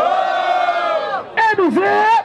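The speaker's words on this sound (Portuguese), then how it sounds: "barulho que gostou da rima do freestyle do meu irmão MZ" Crowd noise at a freestyle rap battle, Batalha do Tanque in São Gonçalo, 2016: a loud sustained mass of voices yelling and cheering, then a short dip and a second burst of whooping shouts.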